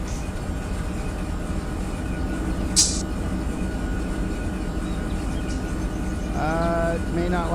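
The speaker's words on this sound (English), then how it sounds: "there's a train past the signal there" A simulated freight train in Run 8 rumbles steadily and continuously, with one brief sharp hiss partway through and a short tonal wavering sound near the end.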